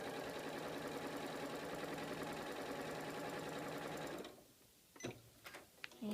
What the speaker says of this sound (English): put these together. Sew those together.